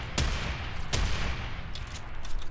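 Gunfire from a weapon in the video game Warframe: two sharp, loud shots about three-quarters of a second apart, followed by fainter crackling impacts over a constant rumbling game backdrop.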